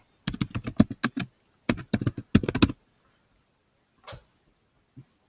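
Quick bursts of computer keyboard typing, close and crisp, come in three rapid runs of keystrokes separated by short pauses, then a couple of isolated clicks in near silence.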